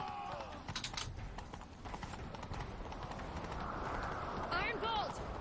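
Horse hooves galloping in The Witcher 3 game, a steady clip-clop rhythm running under game music and ambience, with a rider's short vocal sounds and a horse whinny near the end.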